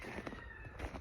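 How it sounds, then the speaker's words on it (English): A cat on a Canadian homestead meows once, briefly and fairly close, over a low background rumble. "I love showcasing these cats to you guys because they're pretty good cats."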